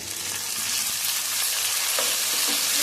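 Chopped onion and tomatoes for bonda kulambu fry in hot oil, giving a loud, steady, close sizzle that runs without a break, with only faint stirring now and then.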